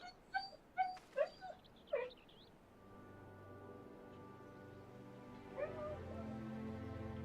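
A husky gives several short, high whimpers and yips in a quick burst, then falls quiet while a steady hum carries on underneath.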